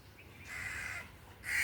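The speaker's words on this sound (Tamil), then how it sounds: "பறவையெல்லாம் வெயிட் பண்ண ஆரம்பிச்சிட்டாங்கன்னா நான் அரிசி வைக்கிறேன்." Crows caw on a rooftop garden at sunrise while waiting to be fed rice, with two drawn-out calls close by over a steady outdoor background.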